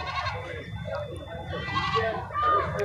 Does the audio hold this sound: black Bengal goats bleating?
yes